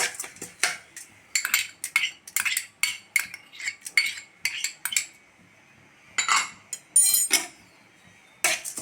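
Dry-roasting fenugreek seeds, black pepper and raw rice in a clay pot: repeated scraping and clinking of a spoon against the pot in steady bursts, close and clear with no talk.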